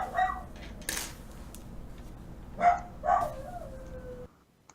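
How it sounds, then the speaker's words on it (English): Dogs barking and yelping in the distance, a few separate short barks and a drawn-out howl-like cry, faint against a quiet room. "I don't know why the dogs are barking."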